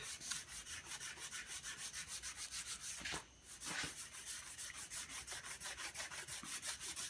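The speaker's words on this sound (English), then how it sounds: "And just do maybe a little bit more flat sanding in here." Fine sandpaper rubbed flat across a model aircraft flap in steady back-and-forth strokes, close and even, with one brief pause midway.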